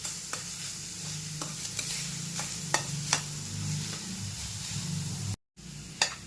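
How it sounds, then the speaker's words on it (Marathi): Grated fresh coconut fries in ghee over medium heat while being stirred for a coconut barfi, a soft continuous sizzle broken by regular spatula scrapes and taps, with a brief dropout near the end. "एकसारखं हलवत आपल्याला हा 4 ते 5 मिनिटं चांगला परतून घ्यायचा आहे तुपामध्ये."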